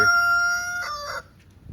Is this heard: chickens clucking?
yes